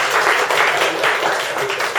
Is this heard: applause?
yes